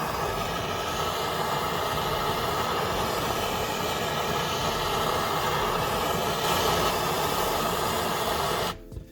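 A MAP gas torch heats the area around a Subaru rear differential, producing a steady, loud, roaring hiss that runs almost unbroken before cutting off abruptly near the end.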